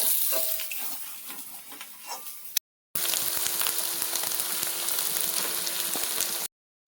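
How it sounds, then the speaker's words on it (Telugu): Chicken pieces going into a hot pan of turmeric-spiced oil for a tangy tamarind-leaf chicken curry, giving a steady, loud, close sizzle with stirring scrapes that keeps going after a brief break, with no talking. "ఇప్పుడు చికెన్ కూడా వేసుకుందాం."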